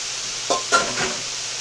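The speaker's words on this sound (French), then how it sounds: "now I'm going to add in the big bowl of cabbage" Cabbage rustles and sizzles in a hot wok, with a couple of soft scraping stirs and a brief clank of a utensil.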